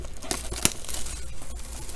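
Plastic wrap crinkles and tears as a 2019 Prizm Baseball hobby box is cut open, with a sharp slicing snap partway through amid continuous close rustling.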